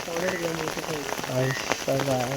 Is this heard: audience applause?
no